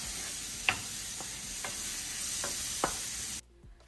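Mushrooms sauté in a pan with salt and garam masala under a soft, even sizzle, broken by a few light spatula scrapes before the sound cuts off abruptly.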